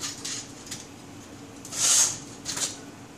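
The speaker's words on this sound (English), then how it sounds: "you just put the scissors in and push" A few short metallic scraping strokes as old doll scissors are pushed through a sharpener, one longer and louder grinding rasp in the middle, close and quiet otherwise.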